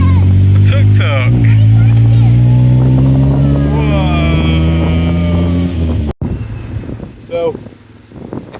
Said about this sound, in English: if you come to Thailand, you have to get in the back of a tuk-tuk